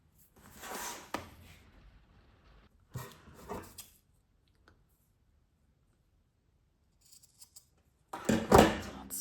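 Scissors snip through paper for a junk journal in short, quiet bursts separated by silent pauses, ending with a louder, closer rustle of handled paper.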